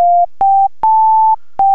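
Default patch of the Sytrus FM synthesizer plays plain sine tones: four clean, steady beeps at a similar pitch, the third held longer than the others, separated by short silences, loud and close with nothing else present.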